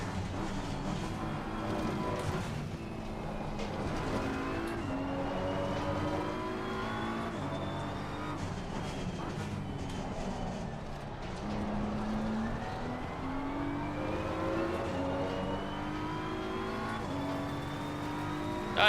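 Race car engines from Assetto Corsa Competizione at Imola, including a Porsche, roar steadily and loudly throughout, with pitch sweeps as cars accelerate, shift gears and pass one another along the straight.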